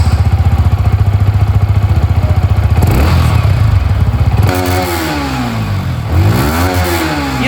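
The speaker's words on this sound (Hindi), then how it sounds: "आप लोगों ने यहाँ पर अभी MT15 को सुन लिया है।" A Yamaha MT15 V2.0 motorcycle exhaust thumps at a fast idle up close, then the engine revs up and down in several loud sweeps.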